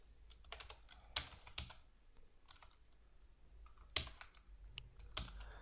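Someone types code on a computer keyboard in short, quiet bursts of key clicks with a few sharper keystrokes and pauses between, close and soft, with no talking.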